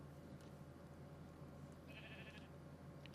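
A sheep bleats in the game Minecraft, a single short faint call over a quiet, steady background hum.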